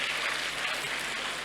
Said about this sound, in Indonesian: Boleh tepuk tangan dulu dong buat Regina Pacis